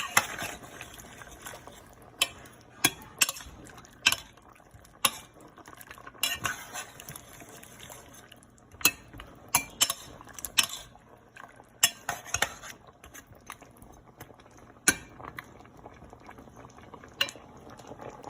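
A spoon stirs chicken simmering in coconut milk in a pot, with sharp metallic clinks against the pot at irregular intervals over a soft bubbling boil, close up and without talk.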